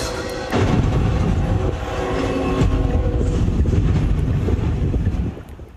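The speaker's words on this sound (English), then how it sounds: "Dashcam footage captured the moment a freight train plowed through a U.S. Army vehicle in South Carolina Thursday" A freight train plows through a U.S. Army vehicle in South Carolina, a loud, sustained rumble and rattling roar of rail cars with crunching impacts and wind buffeting, fading near the end.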